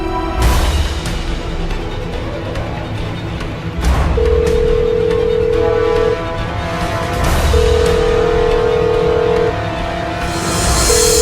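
A phone line's ringback tone sounds on speakerphone in long, steady beeps, repeating twice over a busy background of music-like noise.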